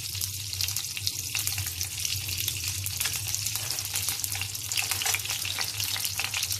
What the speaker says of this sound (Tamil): இதுல நெய்யில முதல்ல முந்திரி பருப்பு வறுத்து எடுத்து வச்சுட்டு